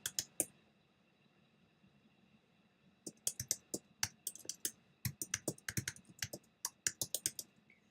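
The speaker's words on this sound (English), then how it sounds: "typing" Someone types on a computer keyboard while working in card-design software. After a quiet pause come irregular bursts of crisp key clicks, close but fairly soft, with no talking.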